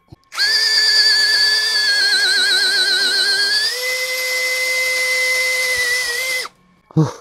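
DongCheng DCJZ2060i cordless impact drill running at speed 1: a loud, sustained high whine that wavers, then steps up in pitch and holds steady before cutting off abruptly, followed by a brief clunk.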